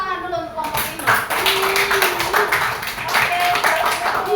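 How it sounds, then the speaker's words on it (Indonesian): Schoolchildren in an elementary classroom clap for a presenting group, a dense mixed burst of hand claps running throughout, with a teacher's voice heard over the applause. "Kita kasih tepuk tangan dulu untuk kelompok 5."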